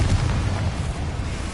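A Confringo spell explodes in Hogwarts Legacy with a brief, loud, booming blast and a low rumbling tail, and no voices.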